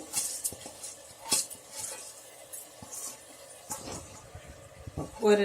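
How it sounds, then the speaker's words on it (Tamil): Soaked basmati rice is stirred in a cooking pot for a vegetable biryani, with scraping and clinking of a utensil against the metal pot, some sharp knocks and a gentle grainy shuffle, close and fairly quiet. "நல்லா ஒரு 2 நிமிஷம் இதை கிண்டிக்கிறோம்."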